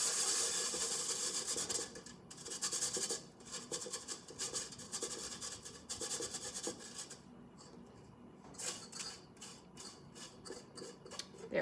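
Fingers rub and press an ingredient through a sieve for egg white bread, making a close, dry, rasping scrape in irregular strokes that come in bursts with brief pauses.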